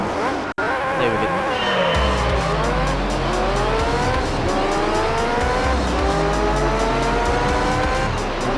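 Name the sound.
F1 race cars driving in Gran Turismo 3 video game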